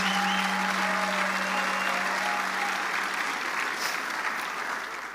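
Applause for a primary school teacher at a church gathering, a dense sustained clapping from a large crowd lasting several seconds and slowly thinning at the end.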